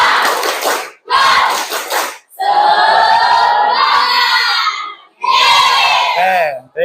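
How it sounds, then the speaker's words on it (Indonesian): A class of children does a spirit clap, two loud bursts of rhythmic clapping followed by long, close shouted chants in unison, with short pauses between the outbursts. "tepuk semangat"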